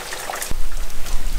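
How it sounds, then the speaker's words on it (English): Water poured from above onto a rain chain feeding a drain, simulating rainfall: a broad splashing, trickling wash that swells suddenly about a third of the way in and stays steady and close. "experiment with this manual rain. Make my own rainfall."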